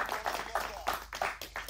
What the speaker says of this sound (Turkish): O zaman Ataberk Doğan'ı alkışlıyoruz